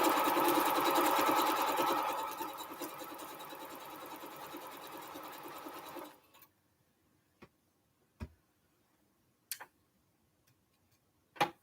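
A sewing machine stitches long quilt strips for a Triple Irish Chain quilt, whirring steadily and loudly for about six seconds before stopping. A few isolated sharp clicks follow in the quiet.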